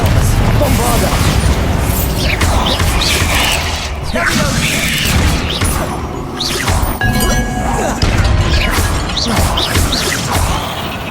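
Bombarda blasting spell striking in Hogwarts Legacy, a loud crashing burst with whooshing debris and rumbling impacts, thick with game effects and followed by further crashes over several seconds.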